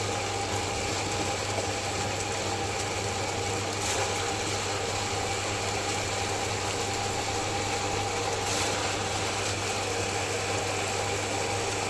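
An electric mixer grinder runs continuously with a steady motor whir and a sustained hum, unchanging throughout.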